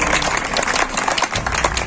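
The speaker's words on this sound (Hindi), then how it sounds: "जोरदार तालियों से स्वागत करें प्लीज।" A crowd at a university youth festival applauds loudly and steadily, with dense clapping filling the whole moment.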